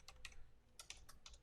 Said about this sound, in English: I want to type.